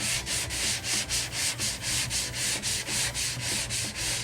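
Primer on a car body being sanded by hand in steady back-and-forth strokes, a close, rhythmic rasping scrape repeated about a dozen times without talk.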